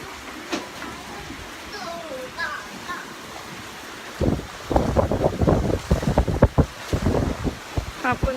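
Strong storm wind of Storm Pabuk lashing a flooded coastal area, a steady low roar that gives way to loud, buffeting gusts hammering the microphone in the second half, with faint voices early on.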